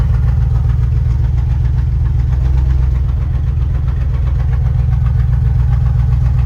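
A 1989 Range Rover Classic SWB engine idles steadily with a deep, rough rumble and a faint knocking pulse, loud and close with no voices.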